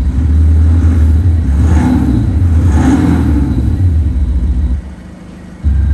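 A Thor electronic exhaust system fitted to a Volkswagen Scirocco imitates a Corvette V8, producing a loud, deep, close engine rumble with a couple of rev swells before dropping briefly and returning.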